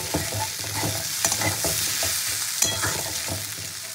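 Young jackfruit fries in oil in a pan, a steady loud sizzle with repeated scraping stirs at an uneven rhythm, close up and with no talking.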